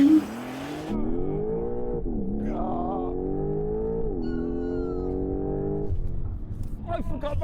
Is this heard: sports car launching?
yes